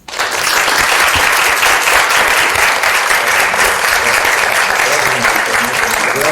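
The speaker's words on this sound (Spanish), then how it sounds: "un aplauso." Audience applause fills a lecture hall at the close of a panel discussion on death, demography, ethics and economics, a dense, steady wash of many hands clapping that holds loud and even throughout.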